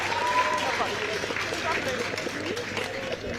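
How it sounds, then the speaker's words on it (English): Applause from French supporters in the stands below at an England versus France under-20 women's rugby match, a steady distant patter of clapping mixed with crowd voices and talk. "the applause you may hear is from all of the French supporters just down below us"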